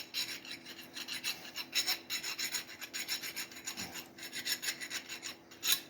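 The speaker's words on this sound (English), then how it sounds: "I took a chainsaw file sharpener, go all the way around it" A chainsaw file sharpener rasps around a metal bolt for a Pittsburgh Pro half-inch drive ratchet, in quick repeated strokes, close and steady, with no voices.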